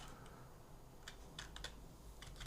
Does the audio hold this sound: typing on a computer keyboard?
yes